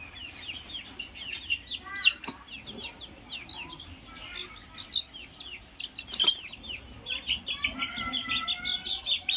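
Brahma chickens cluck inside a cardboard carton, rapid overlapping clucks and chirpy peeps running continuously, close and moderately loud, with occasional scuffing bumps.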